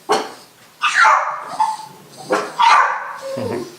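Several close, sharp dog barks and yips in quick irregular bursts, with a whimpering tone between them; no talking.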